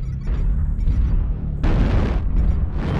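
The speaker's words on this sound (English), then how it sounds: "Airstrike activated. Airstrike online." Heavy booming blasts from airstrike explosions in the MechWarrior Online mech combat game, with a Marauder battlemech nearby, rumbling low and loud without a break, then a bigger eruption swelling midway through.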